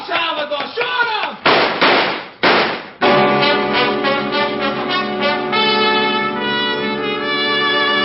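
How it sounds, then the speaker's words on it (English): A gunshot in an old-time radio detective drama: a sharp, broadband crack near the middle, followed by a second burst, set amid dramatic orchestral music with voices. "Well, shoot him, Salvador."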